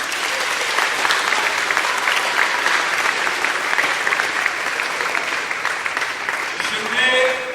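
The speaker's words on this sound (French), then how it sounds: "Est-ce qu'on peut encore applaudir pour ces cheveux?" Sustained, fairly loud applause from a European film festival audience in the DRC, dense clapping with crowd voices mixed in, swelling again near the end.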